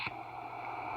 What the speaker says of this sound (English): Ocean.